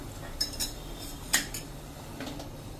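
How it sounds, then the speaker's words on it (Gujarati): Sugar being added to boiled milk while making rabdi, heard as a few light metallic clinks and taps of a spoon against a steel pot, faint and close, with no talking. "ત્યારે હું 1/4 કપ જેટલી આમાં સાકર નાખી દઉં છું।"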